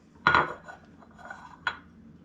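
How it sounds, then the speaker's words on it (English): Eggs are beaten in a bowl for a hummingbird cake, giving two sharp utensil clinks against the bowl with a softer scrape between them, close and moderately loud, with no talking. "We'll go ahead and kind of beat our eggs just a little bit before we add them to the bowl."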